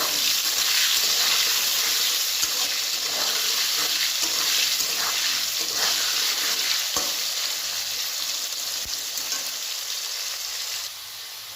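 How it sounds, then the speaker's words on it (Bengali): Potatoes frying in oil while being stirred, giving a dense, steady sizzle with occasional scraping clicks, close by and constant until it thins near the end. "আলুগুলো ভাজা হয়ে গেছে।"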